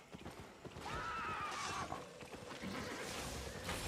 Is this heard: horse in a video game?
yes